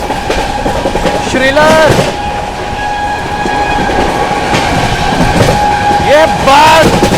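An Indian express train, the Bihar Sampark Kranti Express, runs steadily with a loud, continuous rumble and rattle. Two bursts of rising and falling horn-like tones stand out, and a voice speaks over the noise.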